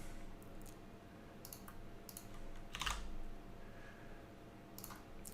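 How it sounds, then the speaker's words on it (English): Typing on a computer keyboard while filling in a product import field: scattered quick bursts of soft key clicks, close and fairly quiet, over a low steady room hum. "you can type in the field and it'll auto find what you're typing"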